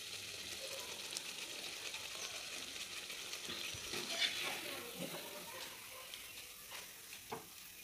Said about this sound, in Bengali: এইভাবে পরপর প্রত্যেকগুলো ভেজে নেবো।